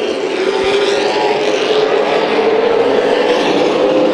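Late model race cars roar together down the front straightaway of a racetrack, a loud, steady engine drone holding through the whole stretch with no talk over it.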